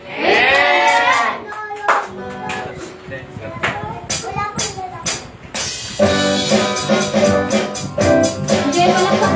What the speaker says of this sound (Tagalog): Sige, palakpak po natin ang ating gawin sa Panginoon.